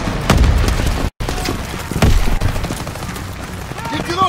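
Grenade blast and heavy gunfire in the Call of Duty WWII Rhine mission, loud booming bursts and rapid shots layered over shouting soldiers.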